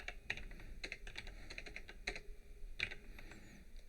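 Computer keyboard being typed on to enter a layer name, a run of quick, light key clicks in uneven bursts, close and clear with no talk.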